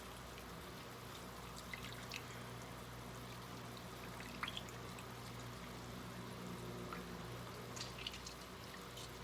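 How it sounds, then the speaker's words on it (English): Juice from a whole lemon squeezed through a small kitchen strainer, falling in a faint, thin trickle and dribble that runs steadily and quietly, close by, with no talking. "Squeeze this one whole lemon in there."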